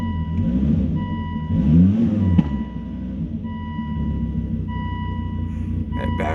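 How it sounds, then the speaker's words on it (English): A Volvo XC70 engine, freshly back together after a timing belt and wiring harness job, idles with a steady rumble and swells briefly in a quick rev before settling, loud and close throughout. "I barely even touched the gas and it wanted to rev right out"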